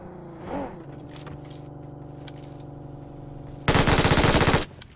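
7.62 rifle fire in PUBG Mobile, a loud sustained burst of rapid automatic shots near the end over a steady droning engine-like tone, no talking.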